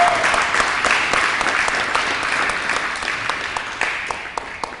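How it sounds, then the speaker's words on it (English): An audience at a Cape Town celebration event applauds school principals, a dense, steady round of clapping that holds strong throughout and fades slightly toward the end. "Let's give them a wonderful round of applause."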